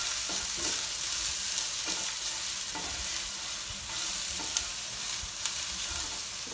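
Brussels sprouts sizzle and fry in a hot pan with cracked pepper and Himalayan salt, a steady close hiss broken by scraping stirs and a few sharp clicks, no talking.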